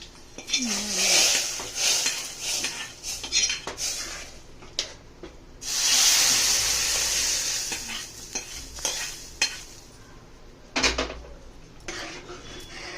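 Spices tempering for tomato dal in a home pan, with metal utensil stirring and scraping, clinks of cookware and a soft sizzle in bursts, close and moderately loud, with brief faint background voice.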